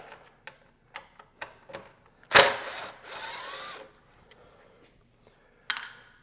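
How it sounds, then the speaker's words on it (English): Bolt removed from the cable guide on an Aprilia motorcycle fender: a series of sharp ratchet clicks, then a loud whirring burst of a power tool spinning for about a second and a half, followed by a few scattered clicks. "This is the first bolt we're going to take off, is on this cable guide here"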